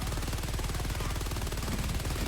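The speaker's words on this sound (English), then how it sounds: "Sustained fire from a stalwart can kill them in half a magazine." A Stalwart machine gun in Helldivers fires a sustained burst, a rapid, dense stream of loud shots without pause.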